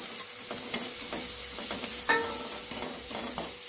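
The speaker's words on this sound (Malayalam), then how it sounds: "ഇതൊരു 2 മിനിറ്റ് നമ്മളിങ്ങനെ ഒന്ന് വഴറ്റി കൊടുക്കണം." Moringa leaves and egg for a Kerala thoran sauté in a pan, with a steady soft sizzle and scattered scraping stir strokes, fairly close and with no talking.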